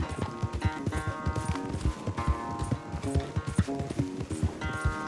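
Rapid clip-clop of horse hooves galloping during a race in Red Dead Redemption 2, steady and close, mixed with game sounds and busy tonal layers throughout.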